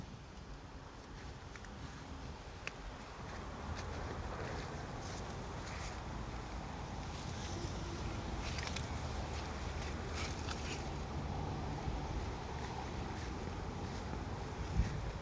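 Cold wind blows through coconut palm leaves in a garden, a steady broadband rushing and rustling with occasional louder gusts and some microphone buffeting, lasting throughout with no talking.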